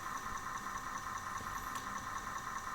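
Small racing planes in the Commodore 64 game Gee Bee Air Rally give off a steady, buzzing synthesized engine drone that holds constant and loud throughout, with no speech.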